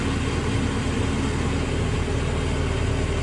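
A car engine idling at a steady, raised speed, a continuous, dense rumble with no gaps, close and fairly loud throughout.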